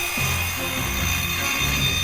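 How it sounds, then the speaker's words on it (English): Drills spinning up to speed on a giant robot in the video game Demonbane, a steady, loud whining roar that fills the whole clip with a low rumbling undertone and no voices. "matching his beat, the drills pick up speed"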